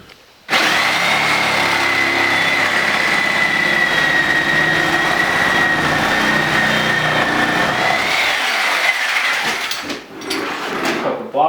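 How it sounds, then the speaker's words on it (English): A power saw cuts out shower wall studs, a loud steady high-pitched motor whine with a grinding cutting noise that runs for several seconds, then winds down and stops, followed by a few knocks. "we're going to come down here and cut these studs out"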